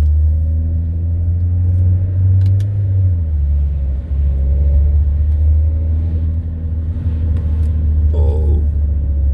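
Car engine starting during a diagnostic test after a mass airflow sensor replacement, settling into a loud, deep, steady idle rumble close by, with a brief dip and light clicks near the end.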